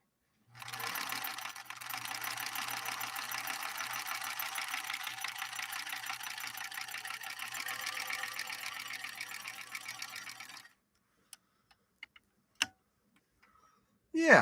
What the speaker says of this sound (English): I'll sew the next column straight